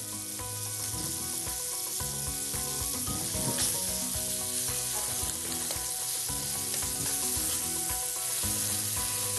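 Steady, dense sizzling of meat searing in a hot pan continues throughout, with occasional stirring and scraping close by and no talk.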